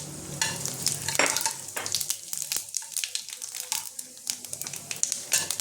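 Whole cumin seeds crackle and sizzle in hot oil with dried red chilli and a torn bay leaf, a steady close frying hiss broken by sharp pops and the scrape of stirring, with no voices.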